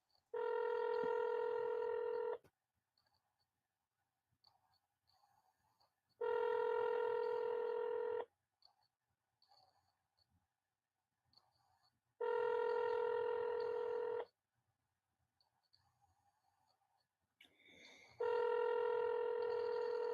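Telephone call to the police department, heard as a ringback tone in four long, even rings with gaps of near silence between them, plus faint scattered noises in the pauses.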